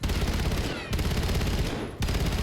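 Rapid bursts of Razor 9mm SMG fire, a 1,000-round-per-minute gun in Black Ops 7, fired in close, loud taps: three short bursts split by brief gaps, no talk.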